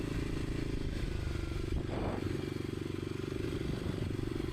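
A Kawasaki KLX300 dirt bike with a modified exhaust, ECU flash and secondary throttle valve removed rides through a school parking lot, its engine droning steadily and close with a faint clatter, no talk.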